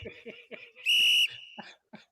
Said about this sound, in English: I'm done hitting the whistle